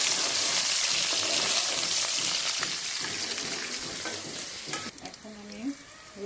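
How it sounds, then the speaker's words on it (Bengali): Chopped onion and garlic fry loudly in hot oil for a soya chunk and potato curry, with a dense sizzle and scraping stirs throughout that ease off slightly toward the end. "রসুন ছোটো করে রেখেছিলাম, সেগুলো তেলের মধ্যে দিয়ে দেবো।"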